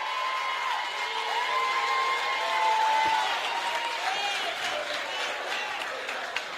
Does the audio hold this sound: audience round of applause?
yes